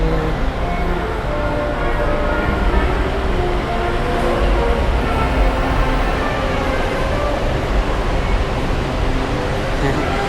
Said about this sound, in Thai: รถไฟมาอีกแล้วพอดีเลยเนี่ย